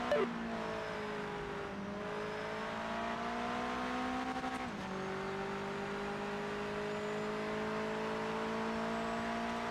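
Race car engine in the Project Motor Racing video game on PS5 revs up steadily, pitch rising over several seconds. A brief dip comes as it shifts, then it climbs again, loud and close, with no talk.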